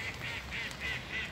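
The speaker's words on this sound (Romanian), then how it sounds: "E un râu cu rațe." Ducks on a park river give about five evenly spaced quacks in a steady rhythm, heard at moderate distance against soft outdoor ambience.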